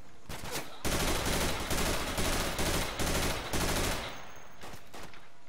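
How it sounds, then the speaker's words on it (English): Sustained video-game gunfire during a shootout, bursts of rapid automatic fire in long loud stretches with short breaks, trailing off near the end. "Shooting at bad guys"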